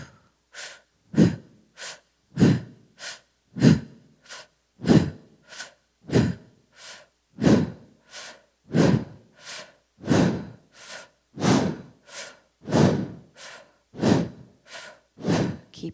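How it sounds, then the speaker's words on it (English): A person breathes slowly and audibly in and out through the mouth during a guided breathing exercise. About a dozen even, close breath cycles follow one another with short pauses between, and nobody speaks. "we're going to breathe in and out through our mouth"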